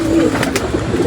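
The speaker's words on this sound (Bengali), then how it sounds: "ভালো কবুতর যারা চিনে তারাই বলবে কি কবুতর" Pet pigeons kept at home give a close, loud, throaty coo, one short rolling call filling the moment with no talk over it.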